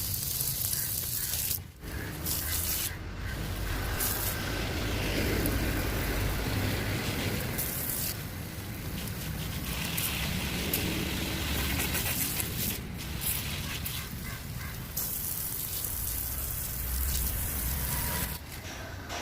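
Water sprays steadily onto hard garden soil with a continuous broad hiss. It pauses briefly once near the start, and no one talks.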